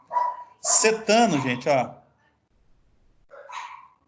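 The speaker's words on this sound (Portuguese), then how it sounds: "Cachorrada aqui tá animada, gente." Dogs barking and yipping excitedly at a place where a DAF diesel engine is being worked on, a few sharp barks mixed in with someone talking in Portuguese, with one more bark after a short pause.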